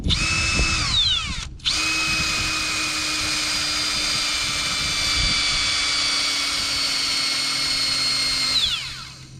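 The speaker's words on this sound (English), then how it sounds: "I still need to go a little bit more drilling" A cordless power drill whines steadily at high speed, stops briefly, then runs again for several seconds before spinning down as its battery runs out.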